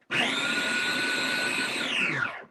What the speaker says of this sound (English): I'm taking the mini chopper and I'm chopping up the onions, the bell pepper, and the celery